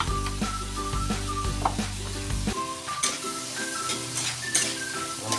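Garlic sizzles in a hot frying pan while fish escabeche is cooked, a steady close crackle that runs the whole time beneath loud background music.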